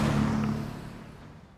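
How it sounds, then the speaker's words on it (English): Cars crossing a road bridge overhead, heard from the canal below as a low engine drone with a tonal hum that fades away over a second and a half, no voices. "We're going underneath all the noisy cars now."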